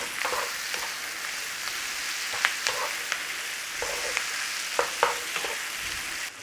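Potato casserole mix with dried thyme stir-frying in a hot pan, a steady close sizzle with intermittent clicks and scrapes from stirring, no talk.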